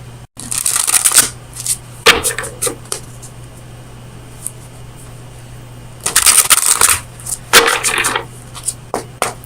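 Oracle of Visions oracle cards being shuffled, close crisp riffling bursts in two clusters with a quiet pause between, no talking.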